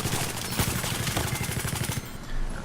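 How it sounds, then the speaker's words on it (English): A light machine gun fires a long, rapid burst in Battlefield 4, evenly spaced shots rattling loud and close for about two seconds before cutting off into a brief tail. "Now, I prefer to run the support class with an LMG."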